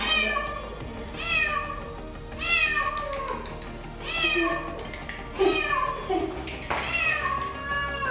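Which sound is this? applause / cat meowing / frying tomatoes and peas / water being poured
cat meowing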